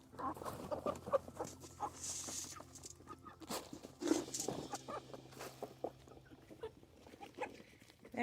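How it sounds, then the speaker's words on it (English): Chickens cluck and squawk in a backyard pen with rabbits nearby, scattered soft calls and rustling, fairly faint and close, with occasional sharper squawks and no talk. "These chickens are real peckers."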